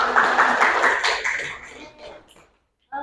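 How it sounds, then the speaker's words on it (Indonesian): Classmates in a school classroom give a burst of hand clapping that tapers off into a brief silence before a voice returns. "Boleh tepuk tangan teman-teman"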